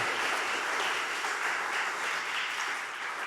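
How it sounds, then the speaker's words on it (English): Sustained applause from a meetup audience welcoming main speaker Farris, a steady broadband wash of clapping with no voices over it. "give a huge round of applause to Farris"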